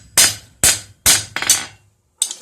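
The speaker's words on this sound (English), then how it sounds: "this is already starting off as hammer texture with a purpose" A blacksmith hammers texture into a metal piece, four sharp, ringing blows at an uneven pace with a close, loud attack, then a short pause before a fifth strike.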